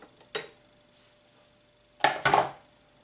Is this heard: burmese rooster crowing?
no